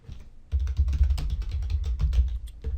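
Quick, steady typing on a computer keyboard, a close run of soft key clicks and thumps at an even pace with no voices.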